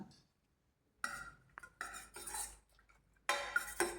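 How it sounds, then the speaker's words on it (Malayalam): A pressure cooker is opened after its pressure has released, giving a few sharp metallic clanks and scrapes of lid and pot separated by quiet gaps, close and fairly faint. "പ്രഷർ പോയ ശേഷം തുറന്ന് നോക്കാം."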